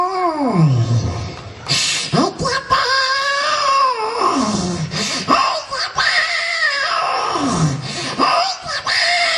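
A person wails and yowls in long rising and falling cries, mimicking a cat in labour, loud and close with short pauses between.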